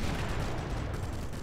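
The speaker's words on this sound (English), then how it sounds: "I'm going to snipe that from here, from a safe distance" Muffled gunfire rumble from the original Sniper Elite game, a low continuous roll of distant shots and blast echo, fairly quiet and steady with no voices.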